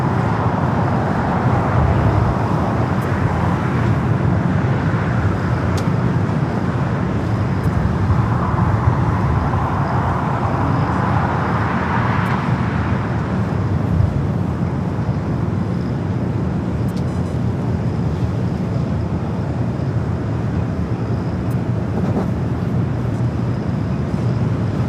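A KLM Boeing 787 Dreamliner arriving at LAX from Amsterdam passes as a broad, steady jet roar that swells and fades over the airport's constant background traffic noise.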